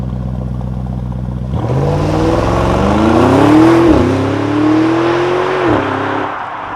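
A 507 hp 2026 Audi SQ7 with a V8 TFSI on winter tires launches from a standstill on a country road, its engine roaring loudly as it climbs through the revs with two distinct gear-shift dips.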